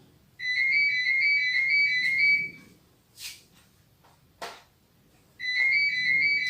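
A telephone rings in a home during a crafting session: two bursts of bright electronic warbling ringtone separated by a pause, with a couple of soft knocks in between and no talking.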